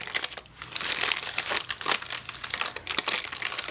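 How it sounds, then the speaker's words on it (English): Tissue paper peeled gently off a melted candle, a steady close crinkling and crackling with short tearing bursts, continuous for several seconds with no talk. "Okay, so now I'm going to peel gently."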